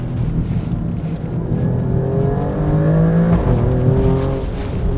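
Alfa Romeo Stelvio Quadrifoglio 2025 petrol engine revving hard toward the limiter, rising harmonic sweeps climbing and dropping across several seconds, loud and close from inside the car with steady road noise beneath.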